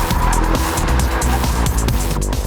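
A Porsche Boxster lapping a race track through a twisty section, its engine roaring loud and close throughout, with tires squealing as it works through the corners.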